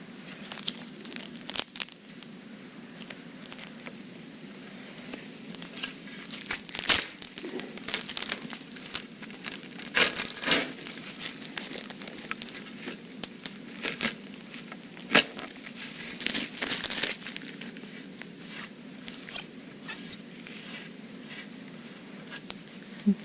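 Adhesive tape is peeled off a Hartzell composite propeller after a Kevlar gouge repair, giving irregular crinkling and tearing crackles in quiet, scattered bursts.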